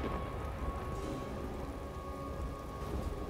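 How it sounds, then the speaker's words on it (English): A rain spell pours down in Divinity: Original Sin 2, a dense, constant downpour hiss at fairly loud level throughout, with no voices over it. "Rain."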